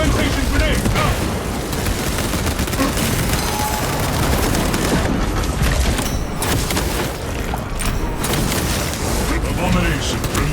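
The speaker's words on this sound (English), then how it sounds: "Fragmentation grenade out!" A fragmentation grenade blast and sustained gunfire in the Space Marine 2 video game, dense and loud throughout with rolling booms and rapid shots, layered with game voice lines.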